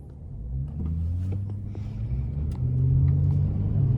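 A Chrysler 300 driving at night gives a steady low engine and road rumble that swells slightly toward the end, with a few faint clicks above it and no talk.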